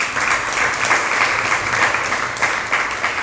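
An audience at a religious lecture class claps in a dense, steady round of applause that stays close and loud throughout.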